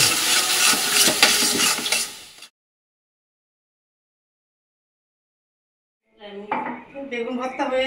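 Spices and mashed roasted eggplant stirred in a frying pan: a dense burst of close scraping and sizzling, then a pause of silence before clattering stirring and sizzle resume.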